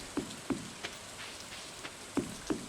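Rain in the farming video game Stardew Valley, a soft steady patter with a few louder droplet ticks spaced irregularly, faint and heard alone.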